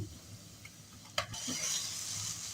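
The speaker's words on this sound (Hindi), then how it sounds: "प्याज के साथ हम इसको अच्छी तरह से भूनेंगे मीडियम फ्लेम पे" Half a kilo of machine-minced keema hits a pan of browned onions over a medium flame, with a utensil clatter and then a rising steady sizzle up close.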